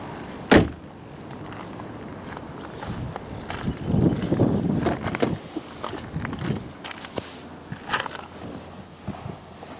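A car door on an Audi A4 B8 shuts with one sharp thump near the start, followed by quieter movement and rustling inside the car.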